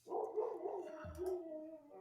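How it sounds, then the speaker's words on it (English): A dog in another room makes a drawn-out, wavering howl that slides up and down in pitch and is muffled by distance, with a short yip partway through and no talk. "I apologize if you can hear my dog. He's in there howling"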